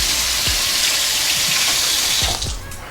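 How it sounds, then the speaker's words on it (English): Tap water runs steadily into a kitchen sink while fingers are rinsed under it, mid-way through baking banana chocolate chip muffins, with a few low splashes and thumps before the flow eases off near the end. "I'm gonna rinse my fingers"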